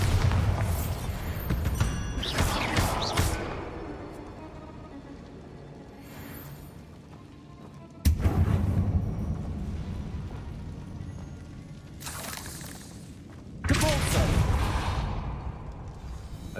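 Bombarda spell explosions in Hogwarts Legacy, heavy booming blasts with whooshing bursts spaced several seconds apart, each one decaying into a rumbling tail.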